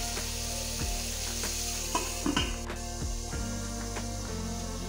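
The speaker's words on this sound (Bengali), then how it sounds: "এতে আলুটা একটু ভেজে নিলেই সুন্দর গলে যায়" Potatoes sizzle in hot oil in a pan for a pumpkin curry, a continuous close crackle with intermittent scraping and knocking of a spatula stirring through the pieces.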